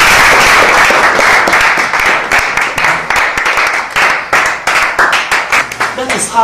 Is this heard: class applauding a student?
yes